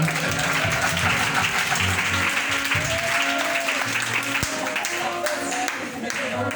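A church congregation applauding and acclaiming the Lord, sustained crowd clapping and cheering with voices woven through, loud and continuous throughout.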